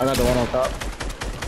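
Video game gunfire in a firefight, rapid cracking shots repeating across the moment beneath a voice speaking over the battle.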